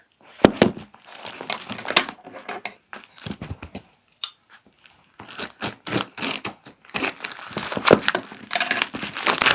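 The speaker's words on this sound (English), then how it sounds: "I will just use this to tear it and open it up" Packaging being torn open and crinkled while unboxing filming equipment, with irregular bursts of ripping, rustling and crunching close by, continuing for several seconds alone.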